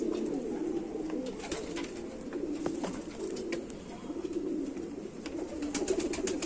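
Young Indian Rampuri pigeons coo nearby in a continuous, overlapping low murmur of repeated rolling calls, steady and close, with no talk.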